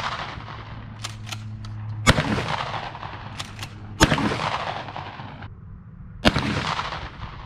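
A Mossberg 500 pump-action shotgun fires three loud, sharp blasts outdoors, each boom followed by a short echoing tail, with faint rustling and clatter between the shots.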